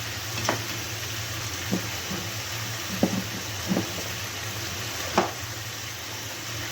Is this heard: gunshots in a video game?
no